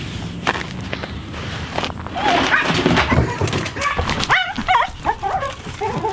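Puppies on a farm whimper, yip and give small barks, close and loud, with high whining calls growing busier toward the end.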